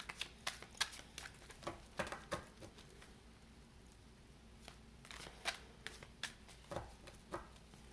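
Tarot cards are shuffled in quick irregular bursts of soft riffling and snapping card slaps, quiet and close, with brief pauses between bursts and no talk.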